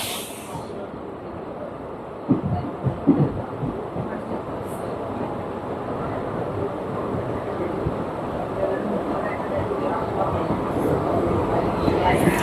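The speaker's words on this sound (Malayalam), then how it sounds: "പോർബന്ദർ കൊച്ചുവേളി വണ്ടിയാണ്." The Porbandar–Kochuveli train rumbles past at close range on the Aroor–Ernakulam line, making a loud, steady roar with hiss and a few clanks near the start, and the sound holds for the whole stretch.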